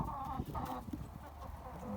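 Hens and roosters on a small farm cluck and murmur in a steady, busy chorus, close and continuous, with scattered short calls rising over the flock.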